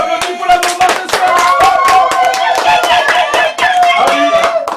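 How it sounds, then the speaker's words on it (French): Birthday-party audience applauding for a mother at a surprise celebration, with dense broadband clapping sustained throughout and a voice or tonal sound running underneath. "Est-ce qu'on peut applaudir pour la maman ce soir?"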